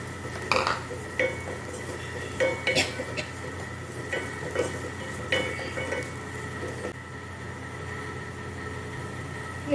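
Oats and chopped green chilli go into a hot pan for an oats and vegetable soup, with a gentle sizzle and several sharp clinks and scrapes of a spoon against the pan.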